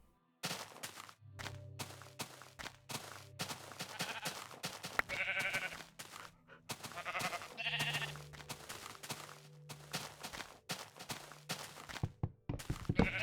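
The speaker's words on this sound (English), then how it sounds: "So many sheep!" A flock of sheep bleats repeatedly in a video game, the cries layering near and far over dull thunks and clicks while a vehicle engine drones low underneath.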